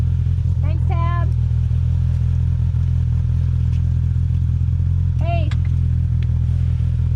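Polaris RZR Pro R and Turbo R UTVs run along a trail with a steady, loud engine drone throughout, while a couple of short shouts rise over it.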